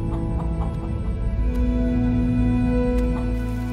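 Dense clucking from many hens over a steady low barnyard hum, with a few sharper calls standing out near the middle and end.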